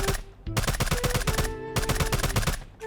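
Rapid bursts of automatic gunfire in the video game Sausage Man, two close, sharp strings of shots with a brief gap between them.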